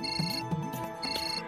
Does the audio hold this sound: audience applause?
no